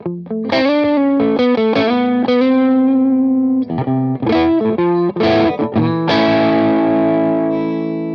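Heavily distorted electric guitar through an Orange amp with a Tone King Imperial preamp plays chugging metal riffs and chords up close, ending on a long ringing chord.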